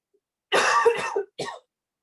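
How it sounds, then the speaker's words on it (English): A person coughs in a harsh, rough burst lasting under a second, then gives one shorter follow-up cough, close to the microphone in a quiet room. "I'm sorry, I need to just cough a minute"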